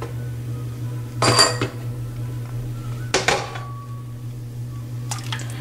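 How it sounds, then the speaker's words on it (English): Ground bisibelabath spice mixture tipped into a cooking pot in a South Indian kitchen, heard as two short bursts of scraping and clattering against the metal, then a lighter clink near the end, over a steady low hum. "Now I'm going to pour this mixture also."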